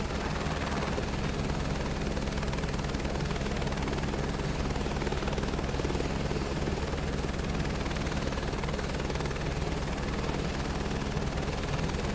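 An Airbus helicopter's engine and rotor in Microsoft Flight Simulator 2024 keep up a constant, loud whirring hum with a steady low thrum, sustained without variation and with no voices over it.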